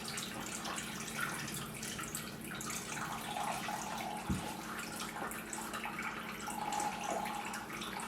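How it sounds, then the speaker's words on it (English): Cold water runs steadily from a tap into a bowl of soaking acorn flour, a continuous close splashing and trickling stream with no talk over it. "I'll just run some more cold water in it, give it a shake, and let it sit for another few hours"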